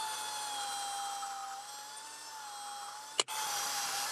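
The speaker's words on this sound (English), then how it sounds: "I'm going to drill a hole through the front." A power drill bores a hole through the front of a plywood sharpening jig, giving a steady high whine that holds for about three seconds and ends with a sharp click as the drill stops.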